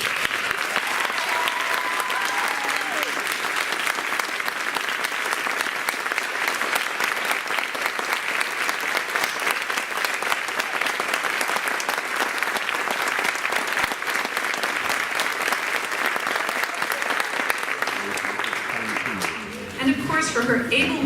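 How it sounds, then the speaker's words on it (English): An audience at an eighth-grade promotion ceremony applauds the middle school faculty, with dense, steady clapping sustained for about twenty seconds before it tapers off at the end. "Would you please thank them with a round of applause for their able guidance for these past few middle school years?"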